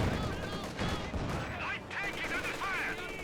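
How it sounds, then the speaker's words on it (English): MG-34 machine gun bursts in a Company of Heroes 2 battle, rapid crackling fire mixed with other battle noise and a commentator talking over it. "MG-34 firing against the conscripts"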